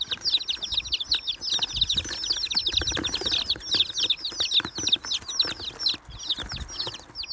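Colourful chicks chirping in a dense, continuous chorus of high, rapid peeps, close and lively, with faint rustling and scuffling underneath as they are carried toward a mini zoo.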